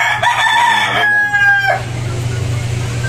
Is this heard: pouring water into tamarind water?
no